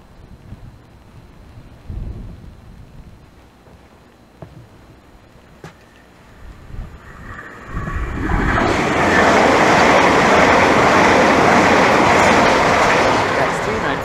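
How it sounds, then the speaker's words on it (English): A Southeastern passenger train passes through Teynham station, starting faint and distant before swelling into a loud, close, continuous rumble and rush of wheels that holds through the final seconds. "And now passing by is 1 Charlie 42, the 1625 Southeastern service from St Pancras to St Pancras via Ramsgate and Deal."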